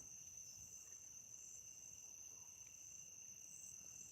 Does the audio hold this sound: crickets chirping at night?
yes